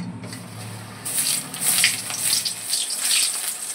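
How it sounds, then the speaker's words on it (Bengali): Small pieces of nimki dough fry in very hot oil on a gas stove, a bright bubbling hiss that jumps up after a quiet start and keeps crackling with uneven bursts, no talking. "এবার আমি এটা ভেজে নেব"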